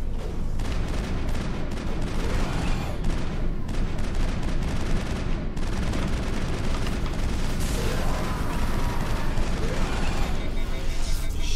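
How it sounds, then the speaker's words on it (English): Assault rifle fire in the Mass Effect video game crackles in dense, continuous bursts from start to finish, loud and busy with overlapping battle effects. "This stupid assault rifle sucks."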